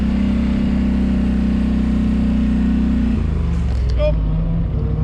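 A hot Can-Am Sportsman XP 1000cc ATV, covered in mud, runs with a steady, loud engine drone close by, its pitch dropping partway through as it settles toward idle.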